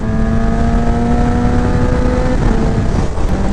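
Kawasaki ZX10R KRT Edition motorcycle running steadily with a sustained engine drone and faint shifting changes, loud and close with no talking.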